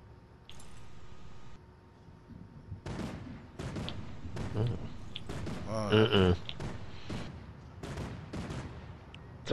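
Sustained gunfire bursts from a mounted turret in a Fortnite match, loud repeated volleys with short gaps between them, mixed with game effects and a few talking voices.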